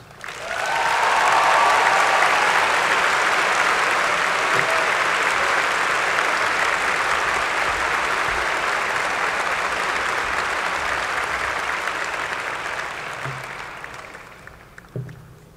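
Warm, sustained applause from a commencement audience welcoming the 2025 student speaker swells quickly, holds steady for over ten seconds, then slowly tapers away, with faint scattered noises near the end.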